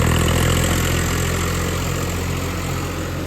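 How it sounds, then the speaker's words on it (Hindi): A Swaraj 744 FE 4WD tractor engine idles steadily nearby, a loud continuous low throbbing rumble with no voices. "देखो भाई ट्रैक्टर का साउंड देख रहे हो"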